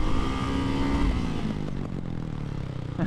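Single-cylinder Ducati Hypermotard 698 Mono motorcycle engine droning steadily close by as the rider brakes hard and slides the rear in, the pitch dropping and churning with gear changes.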